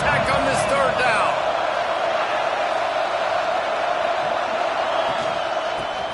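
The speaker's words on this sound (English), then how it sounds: "The crowd electric, trying to help Tech on this third down." A stadium crowd roars steadily at a Texas Tech football game on a third down, a loud, dense wall of cheering and whooping that holds throughout with a commentator talking over it.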